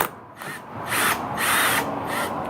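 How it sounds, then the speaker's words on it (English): A power drill whirs inside a watermelon, liquefying the flesh into a smoothie, its motor rising and falling in pitch through several close, loud bursts with brief easing between them. "you're going to take your drill"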